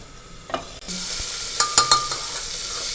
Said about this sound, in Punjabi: ਪਿਆਜ਼ ਨੂੰ ਚੰਗੀ ਤਰ੍ਹਾਂ ਭੁੰਨ ਲਾਂਗੇ ਚੰਗੀ ਤਰ੍ਹਾਂ ਭੁੰਨਾਂਗੇ ਜਦ ਤੱਕ ਇਹ ਬ੍ਰਾਊਨ ਨਹੀਂ ਹੋ ਜਾਂਦਾ